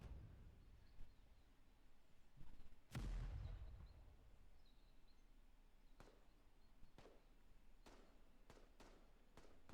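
Mortar fire in the war game Leave No One Behind: Ia Drang: one heavy booming launch with a rumbling tail, then several sharper distant cracks of gunfire spaced apart over low battlefield ambience.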